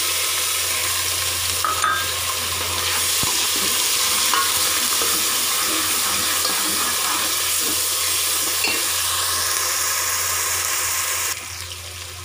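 Golden-brown onions fry with ginger-garlic paste in a pan for a potato and egg curry. A close, steady sizzle runs under repeated scraping stirs, with no talking.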